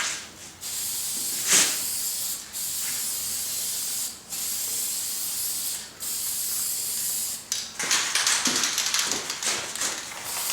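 Spray can hissing in bursts as light coats of paint go onto interior car trim and dash pieces, steady close spraying broken by short pauses, with a rougher, sputtering pass near the end.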